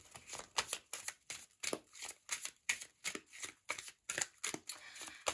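Tarot cards are shuffled in a quick, even rhythm of about a dozen soft riffling bursts, quiet and close, with no voices.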